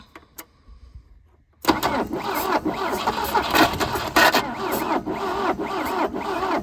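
An old Volvo Amazon engine cranking hard, the starter churning rhythmically and loudly close by after a short quiet pause, almost catching but never settling into an idle.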